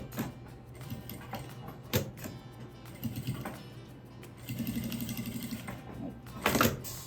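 A domestic sewing machine stitches a quilted placemat in short, fairly faint bursts with pauses between, interrupted by a few sharp handling clicks and a louder burst near the end.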